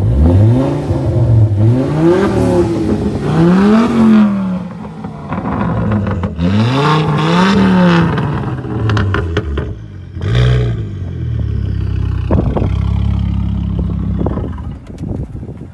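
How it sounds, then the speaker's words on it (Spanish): A Ford Focus ST engine is revved repeatedly, each blip rising to a loud roar and falling back, with several long pulls followed by shorter bursts and idling between them. "vamos a darle unos acelerones"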